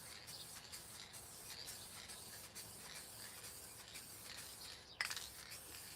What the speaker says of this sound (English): So I'll put the clear coat on to wet the top of the paint.